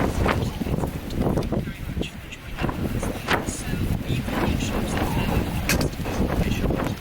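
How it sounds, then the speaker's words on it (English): Strong gale wind buffets a high ridge at a wild camp, roaring as a constant loud rumble with gusty surges and microphone buffeting throughout, with faint speech in the mix. "It's blowing a gale here."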